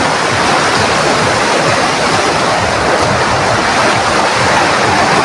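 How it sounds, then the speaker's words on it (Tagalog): Sabsaban Falls in the Philippines roars as a steady, loud wash of rushing water, continuous and close with no talk over it. "Nandito tayo ngayon sa Sabsaban Falls."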